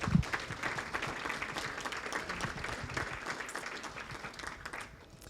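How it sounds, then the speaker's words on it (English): A room of guests at a historical society's spring dinner applauds, a warm, moderate patter of clapping that gradually thins and fades toward the end. "I think we should give them a round of applause."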